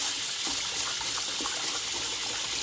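Water runs steadily from a tap into a large pot while rice is rinsed, a constant close gushing splash with no speech.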